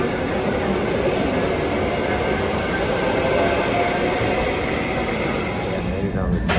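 Inside a moving commuter train heading toward downtown, nearing Peoria Station, a steady, loud rumble of wheels and carriage noise runs continuously without a break.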